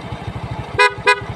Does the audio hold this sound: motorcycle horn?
yes